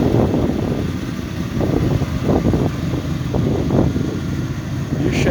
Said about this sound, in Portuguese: Motor rodando redondinho.